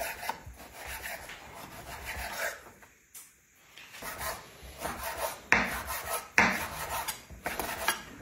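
A knife slices guanciale into strips on a cutting board, giving soft rubbing strokes and a few sharper taps against wood, close and fairly quiet with no talking.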